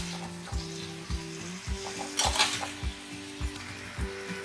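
Potatoes and eggplant frying in a pan with cooking oil, sizzling steadily while a utensil stirs them in regular scraping strokes, with occasional clinks against the pan.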